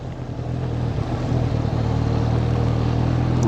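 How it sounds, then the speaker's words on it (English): A white car approaches and passes a motorbike waiting on a wet road, building into a loud, steady rushing roar of engine and tyre noise that holds to the end. "The white car's coming. He's coming at a bit of a pace, so we're going to slow down and wait for him to pass."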